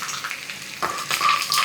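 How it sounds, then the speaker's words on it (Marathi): Sliced and crushed garlic frying in hot oil for a tadka, a steady close sizzle that swells louder partway through as the pieces crisp up. "लसणाची फोडणी. तेल गरम केलं आहे."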